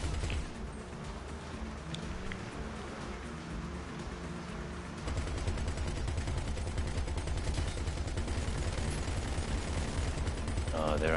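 Dense gunfire from a GTA V heist mission rattles continuously, shifting to louder, heavier bursts halfway through, with game noise around it.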